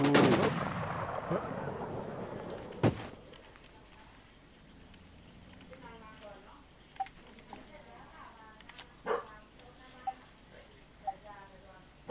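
Gunfire in the video game The Infestation: one loud crack early, then scattered fainter pops and shots in the background, with a voice talking over the action.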